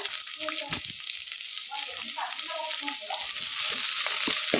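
Onions fry in a pan for a corn tempering dish, a soft, fairly quiet sizzle with scattered stirring clicks and scrapes.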